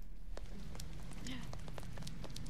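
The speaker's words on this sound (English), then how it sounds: "Hey, it's raining." Rain falls in a video game as a steady, even hiss dotted with scattered small droplet taps, moderately quiet and unbroken throughout.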